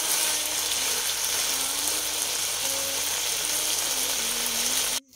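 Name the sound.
frying lentil dumplings (bori) in oil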